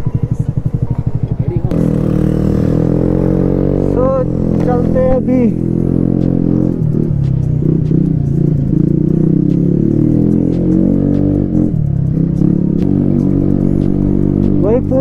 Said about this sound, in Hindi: फुल थ्रॉटल देने में इतनी ज़्यादा आवाज़ आ रही है ना